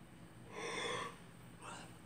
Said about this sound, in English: Hang on, another yawn coming.